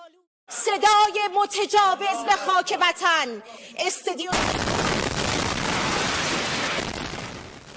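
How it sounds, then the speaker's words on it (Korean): A missile strikes the Iranian state broadcaster in Tehran during a live broadcast: someone speaks steadily, then a sudden loud blast cuts in, followed by a sustained roaring rumble. "잠시 뒤 폭발음과 함께 카메라가 흔들리고 놀란 진행자는 급하게 자리를 피합니다."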